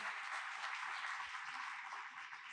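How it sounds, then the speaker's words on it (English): Audience applause for the CEO of Indian Hotels at a hospitality industry event, a steady dense patter of many hands clapping at moderate, fairly far-off level, fading slightly at the end. "A huge round of applause, please."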